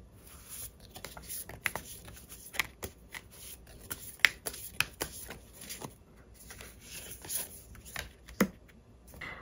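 Tarot cards are shuffled and handled up close, with quick papery riffles, soft slaps and flicks arriving in irregular bursts, quiet and without talk.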